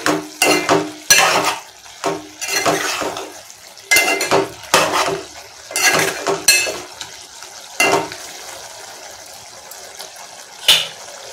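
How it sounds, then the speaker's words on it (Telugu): A spoon stirs coriander and cumin into a curry in a pan, making loud, rhythmic scraping and clattering strokes in bursts over a low frying hiss, up close with no voices. "ధనియాలు, జీలకర్ర అవి వేసేసుకోవాలి. వేసేసుకుని ఒకసారి ఇలా కలుపుకొని"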